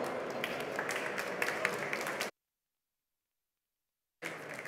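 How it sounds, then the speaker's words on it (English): Audience applause at the South Summit 2016 conference welcoming a speaker, a dense wash of clapping that runs for about two seconds, breaks off into silence, then resumes briefly at the end. "Big applause."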